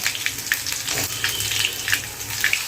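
Green chilies, just two, drop into hot oil for a beetroot stir-fry, giving a steady bright sizzle and crackle with small pops scattered throughout, close and fairly loud with no voice over it.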